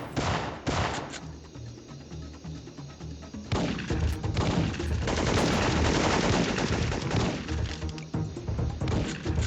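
Gunfire in the Syphon Filter video game: a few sharp shots, then sustained loud rapid bursts of automatic fire and impacts that run almost without pause, with no talk over them.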